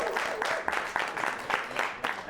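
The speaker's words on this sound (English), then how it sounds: "Let's clap for yourselves." Studio audience on a live community television talk show clapping for themselves, a moderate scattering of individual claps with a steady rhythm, fairly close and unaccompanied by talk.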